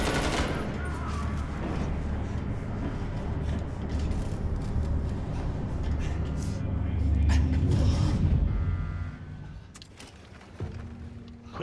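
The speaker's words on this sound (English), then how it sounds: "Got dual machine guns." Dual machine guns blaze in Wolfenstein II, dense sustained automatic fire rolling on without pause, loud and close with heavy low rumble, swelling near the end before easing off.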